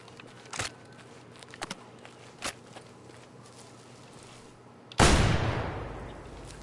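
Break-action gun shots while hunting in a video game: several sharp, separate cracks spaced across quiet ambience, followed by a much louder, longer blast that rolls out and decays.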